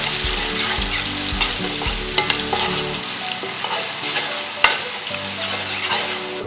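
Paste frying with rice in a pan for coconut rice, a close, steady sizzle with stirring scrapes and a few sharp knocks of the spoon.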